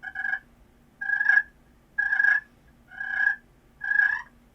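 Five soft, rolling turkey purrs at an even pace, each a short trilling burst separated by brief quiet, heard close up with faint background hum.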